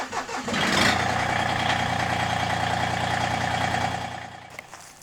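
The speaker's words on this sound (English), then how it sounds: "we're going to fire up the tractor" A tractor engine fires up and settles into a steady, loud idle, its low rumble holding evenly for several seconds before fading at the end.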